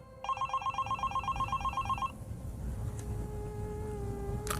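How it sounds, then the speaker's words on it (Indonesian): A mobile phone ringing with a rapid warbling electronic trill, repeating about a dozen quick pulses for two seconds before stopping, leaving a faint steady hiss and tone behind; no talking. "Sekali lagi, HP milikku berbunyi."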